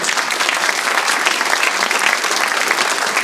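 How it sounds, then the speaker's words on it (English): An audience at a live event applauds in a dense, steady wash of clapping, loud and close, sustained without pause throughout. "Clap it up for yourself."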